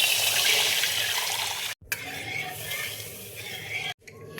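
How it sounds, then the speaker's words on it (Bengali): Milk is poured into a pot for kheer, a continuous close splashing stream of liquid. It cuts off briefly twice before resuming. "এবার দেখো 500 মতো দুধ আমি দিয়ে দিচ্ছি"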